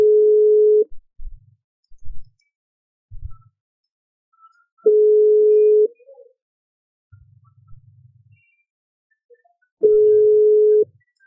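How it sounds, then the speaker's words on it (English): Phone ringback tone heard while a cold call waits to be answered: three flat, loud one-second beeps repeat about every five seconds, with faint low rumbles in the gaps. "So it is ringing."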